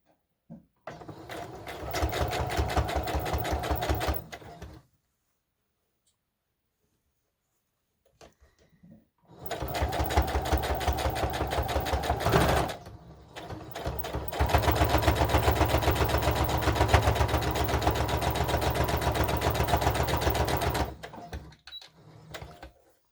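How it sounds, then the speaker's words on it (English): A sewing machine straight-stitching a doll bodice runs in steady, close mechanical bursts: about five seconds of whirring, a pause with faint handling, then a long run of stitching broken by a brief stop. No voices are heard. "I'm going to now sew over that. Let me change my stitch back to straight stitch."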